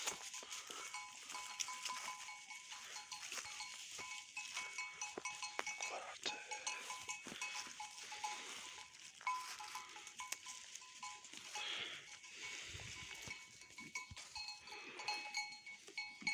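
A flock of sheep with newborn lambs moves along with bells clinking and jangling constantly, occasional bleats rising faintly over the steady tinkling in an open outdoor space.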